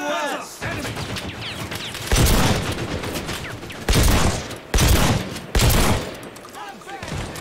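Several loud, heavy blasts from a video game firefight, sharp booms around 2, 4, 5 and 6 seconds over continuous gunfire and game noise, with a grenade among them.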